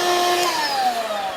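A cordless burnisher sanding with a vacuum cleaner hooked up gives a loud, steady high whine whose pitch slowly glides downward, close and continuous with no talk.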